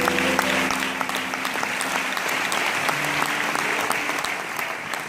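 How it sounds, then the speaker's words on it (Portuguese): Congregation at a Pentecostal church service in Porto applauding together, a steady, dense wash of clapping hands that holds evenly for several seconds with no talking over it. "Uma salva de palmas pela vida do Senhor."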